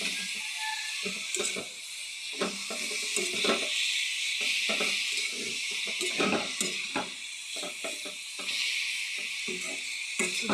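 Vegetables for a sour bee-fruit dish fry in a pan and are stirred continuously, giving a loud hiss broken by repeated scraping clatters of the spoon against the pan, with no talk.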